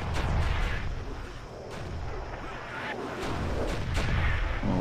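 Heavy tank cannon fire and rumbling battle noise from the Stubbs the Zombie game on Xbox 360, with repeated booming blasts over a dense, continuous loud din and some voice underneath.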